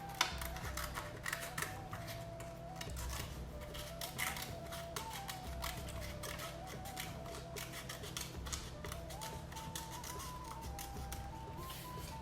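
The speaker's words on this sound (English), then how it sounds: "I'm going to go ahead and I'm going to cut this circle" Scissors snipping through paper to cut out a drawn circle for Diwali decorations, a steady run of small crisp cuts close by over a constant low background hum, with no talking.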